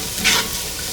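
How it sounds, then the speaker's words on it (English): Onions cook down in a skillet with a steady sizzle, joined by a brief scrape of stirring, heard alone and close for under a second. "I have the onions cooking down a little bit"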